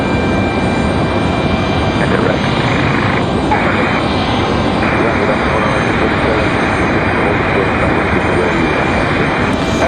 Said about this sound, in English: 737 getting ready to leave here momentarily.